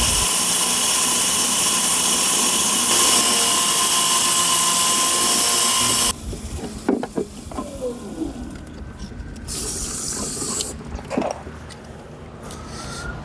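A saw cutting through agate rock, a loud steady whining grind with water running for several seconds, then stopping and giving way to quieter clatter and handling noises.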